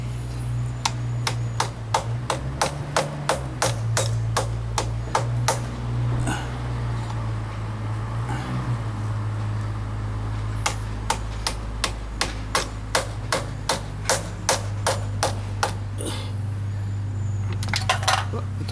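Metal hammer strikes drive a PCV valve into a 2008 Jeep engine, landing as a long run of evenly spaced sharp taps in two bursts with a brief pause between, loud and close over a steady low hum.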